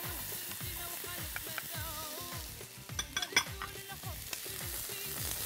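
Zucchini is stirred into eggplant frying with tomato concentrate for kapunata, giving a soft sizzle under repeated scraping and clinking of a utensil against the pan, with a brief louder burst of clatter midway.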